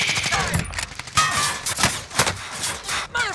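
Rapid bursts of video game gunfire from an enemy shooting at the player, in several loud, clustered volleys across a squad battle-royale match with a bounty target and gas moving in, with brief voice chatter.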